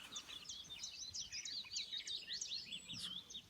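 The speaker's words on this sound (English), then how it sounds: "So it's chiff chaff." A chiffchaff sings outdoors during a bird-ringing session, its thin repeated notes coming faint and distant over a soft background hiss.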